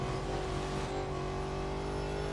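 A race car engine from the Real Racing 3 mobile game drones steadily at high revs, a constant loud whine with no letup and no speech over it.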